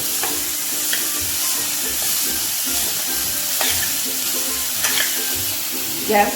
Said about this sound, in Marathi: आता ह्यामध्ये आपण आपल्या इथे भाज्या घालूया गाजर घालूया कोबी घालूया आणि डबू मिरची घालूया हे छान परतून घेऊया